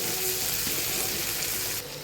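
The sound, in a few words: chopped onions frying in oil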